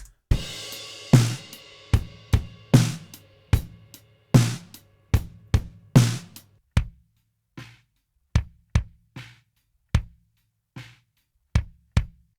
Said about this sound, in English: This is a live drum kit. And the kit sounds like this as a whole.